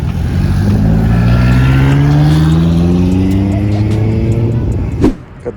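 A supercharged car fitted with a Boss 302 intake and a ProCharger revs loudly up close. The engine tone climbs in pitch over several seconds, then cuts off abruptly into a few sharp pops while people talk in the background.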